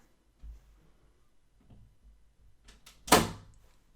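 A door moves and closes during a prank, with a few soft knocks and creaks leading into one sharp, fairly loud thud near the end, all in a quiet room.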